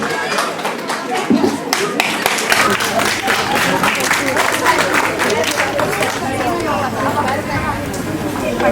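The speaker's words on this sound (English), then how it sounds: "Give a round of applause." An audience at a school's annual event applauds to welcome the guest of honour, a steady wash of clapping mixed with crowd chatter and a voice speaking throughout.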